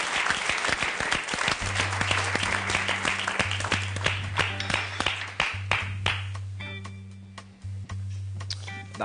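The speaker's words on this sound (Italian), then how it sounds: "Ve lo faccio io l'applauso" Applause for the cooks in a television cooking studio, a burst of clapping that gradually thins into scattered claps, with a low steady tone humming underneath.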